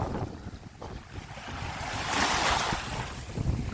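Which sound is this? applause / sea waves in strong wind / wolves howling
sea waves in strong wind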